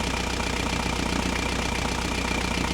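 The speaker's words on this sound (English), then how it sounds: "Now I'm going to start the engine, run it for 15 minutes to let the oil heat up" A boat engine idles steadily to warm its oil before an oil change, giving a continuous low mechanical drone with no talking.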